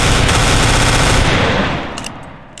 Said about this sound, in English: So this is the FAMAS here